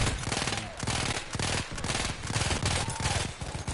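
Gunfire in the first-person shooter Battlefield 1, a close, loud stream of rapid automatic bursts pulsing in a steady rhythm, with sustained battle noise filling the gaps.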